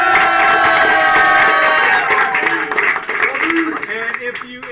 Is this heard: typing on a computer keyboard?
no